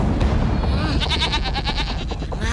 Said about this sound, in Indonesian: Hei Gendono, jangan makan kambing-kambing itu. Kambing-kambing itu bukan milik kami